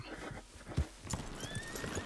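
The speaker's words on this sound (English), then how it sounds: "That's a pretty horse she's got." A horse in the Red Dead Redemption 2 video game: a heavy hoof thud near the start, more hoof clops, then a high, drawn-out whinny rising over steady game ambience.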